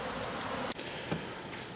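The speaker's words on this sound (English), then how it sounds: "we've attracted quite a few bees again" Honey bees buzz around honey frames during cleanup after a first-year honey harvest, a steady close insect drone that fills the moment, with a brief dull knock partway through.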